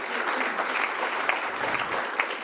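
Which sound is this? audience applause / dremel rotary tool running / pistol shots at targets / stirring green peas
audience applause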